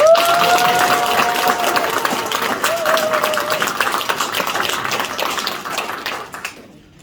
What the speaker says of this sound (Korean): 저희 부모님께 큰 박수 주시면